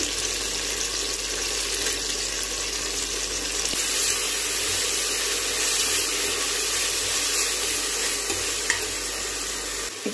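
Ginger garlic paste sizzles steadily in hot oil in a pan for chicken gravy, a close, continuous hiss and crackle with faint stirring throughout.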